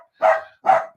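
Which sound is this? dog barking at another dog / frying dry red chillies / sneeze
dog barking at another dog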